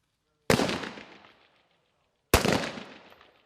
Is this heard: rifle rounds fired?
yes